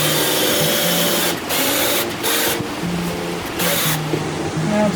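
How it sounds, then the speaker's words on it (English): A power drill bores handle holes through a kitchen cabinet door being prepped for painting: a steady, close whirring drone that shifts in pitch as the bit cuts, broken by a few short dips. "and then you drill through."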